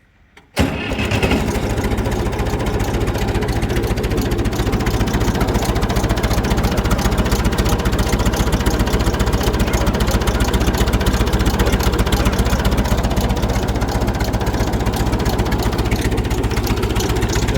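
An old Massey Ferguson 65 tractor engine starts after a brief silence, then idles steadily and loudly with a constant rumbling, mid-pitched drone and no talking.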